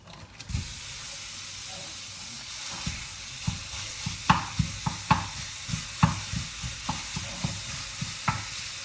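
Beef frying with softened onions in a pan, giving a low steady sizzle broken by a string of distinct scraping knocks as a utensil stirs and breaks up the meat, with no talk.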